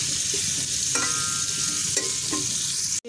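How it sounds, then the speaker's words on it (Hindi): Onions fry in a pan for aloo tahari, a continuous close sizzle with a few scraping stirs of a spoon through the oil. "हम प्याज को अच्छी तरह ब्राउन होने देंगे।"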